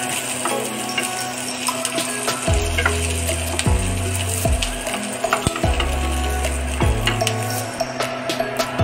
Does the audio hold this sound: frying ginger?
yes